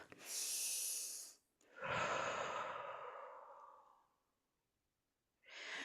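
Slow, deep breaths during a guided gratitude and inner-peace breathing exercise: a long breathy inhale, a fuller drawn-out exhale that fades away, then another inhale begins, all close and soft with no talk.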